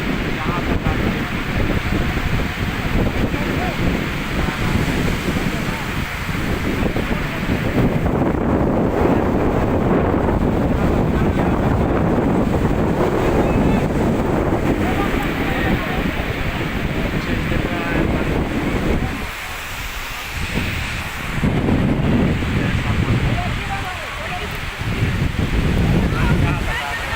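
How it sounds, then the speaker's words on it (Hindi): Sea waves rolling onto Juhu Beach in Mumbai, a steady surf wash under heavy wind buffeting the microphone, with someone talking over it. "ये जो देख रहे हैं वो समुद्र की लहर देख रहे हैं आप लोग"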